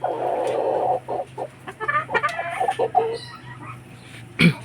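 A rooster clucks in short, close bursts, with a hum running steadily underneath and a sharp, brief louder call near the end.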